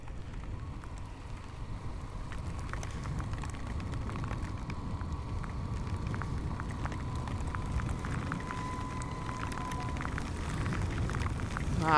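Rain falls hard during a motorcycle ride, a constant dense wash of drops and road noise at a fairly low level, steady throughout with no voices.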